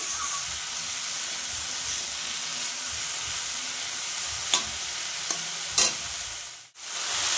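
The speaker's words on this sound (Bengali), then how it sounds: "পেঁয়াজ ভাজাটা ভালো করে শাকের সাথে মিশিয়ে দেব। একটুখানি সময় ভেজে তারপরে লবণ দেবো" Water spinach (kalmi) fries with fried onion in a pan, a steady hissing sizzle with a few utensil scrapes from stirring near the end, and no voices.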